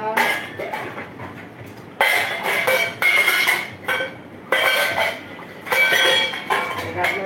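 Dirty dishes, pots and utensils are scrubbed at a sink, giving bursts of clinking and clattering metal and running water that start and stop every second or so, close by, with a faint voice now and then.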